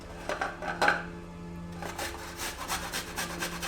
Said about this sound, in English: Grate the ginger and the garlic.